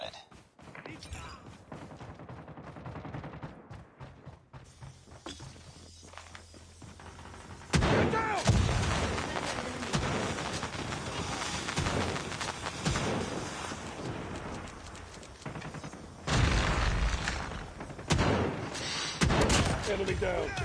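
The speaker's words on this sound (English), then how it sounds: "Hostile Predator missile inbound." Predator missile strike explosions and gunfire in the Call of Duty Mobile video game, with heavy booming blasts and crackling shots layered over game music, punctuated by loud impacts around the middle and near the end.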